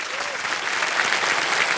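Studio audience on a TV quiz show applauds steadily, a dense and even wash of clapping that holds at full strength throughout with no voices over it.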